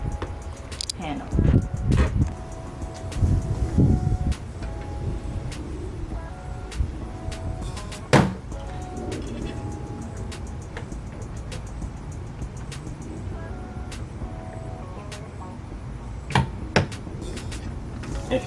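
Plastic creaks and sharp clicks as a door panel is pried loose from a 2010 Chevrolet Camaro 2SS, with rustling handling noise and people talking quietly over it.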